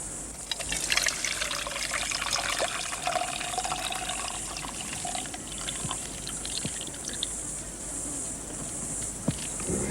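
Bush tea being poured through a grass strainer into a mug out in the wet near Port Keats. A continuous close trickle of liquid runs the whole time, with a few small knocks and clinks.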